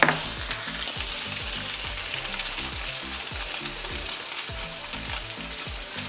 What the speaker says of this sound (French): Je vous fais écouter le frétillement.